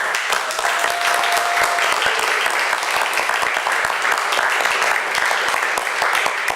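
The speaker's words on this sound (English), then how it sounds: "Applause." A town council meeting audience applauds in a steady, dense burst of clapping, close and even throughout, with a few sharper individual claps standing out.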